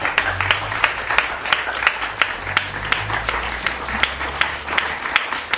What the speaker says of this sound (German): Ich denke, er hat auch mal an dieser Stelle einen Applaus verdient.